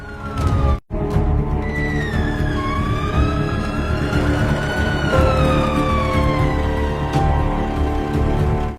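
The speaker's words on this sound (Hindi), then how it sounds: "वो देखो, एक एम्बुलेंस आ रहा है।" An ambulance siren wails loudly and steadily over heavy rumbling traffic noise, its pitch rising and falling as it draws near.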